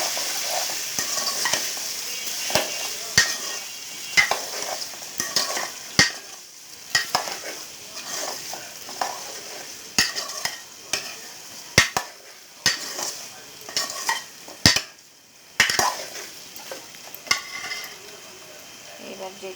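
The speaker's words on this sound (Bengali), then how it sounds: "হলুদ গুঁড়ো দিয়েছি এক চামচ হলুদটা একটু বেগে নেব" Turmeric powder frying in oil in a pan for a vegetarian taro and potato dish, a continuous sizzle broken by frequent sharp scrapes and clacks of a spatula stirring, close and irregular, with no talk.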